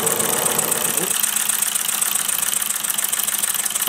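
A gas-fired Mamod SP7 stationary steam engine runs steadily with a continuous close hiss and rapid mechanical ticking, holding an even level throughout with no talk.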